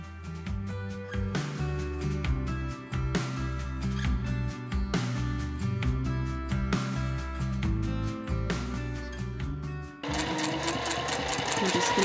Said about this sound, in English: We're just going to meet back up with our starting stitch, go a little bit further, and then back stitch.